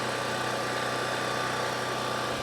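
A reliable generator engine running in a garage, a constant, even mechanical hum with a steady low throb and no variation throughout.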